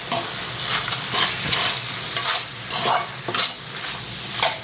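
Street-style pasta stirred in a pan, a spoon scraping the metal in repeated strokes over a soft, steady sizzle, close and fairly loud with no talking.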